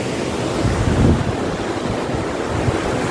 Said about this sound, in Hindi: तो ये है वाटरफॉल जो बिल्कुल कैंपिंग एरिया के पास में है।